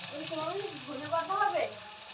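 Sliced onions fry in oil in a pan where fish has just been fried. A soft, steady sizzle sits beneath a voice speaking close by.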